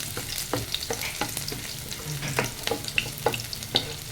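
Garlic fries in oil in a pan for chicken nilaga, producing a continuous sizzle with sharp intermittent scrapes and taps of a stirring utensil, close and moderate in volume, with nobody talking.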